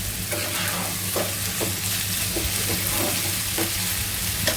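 Bitter gourd frying on a stove, a steady low sizzle with occasional stirring scrapes, moderately quiet and continuous with no talk.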